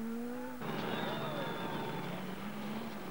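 Works rally cars at the 1986 Monte Carlo Rally, among them a Peugeot 205 Turbo, Lancia Delta S4 and Audi Quattro, roar past with a steady, loud engine drone and a brief whining note, continuous across the short stretch.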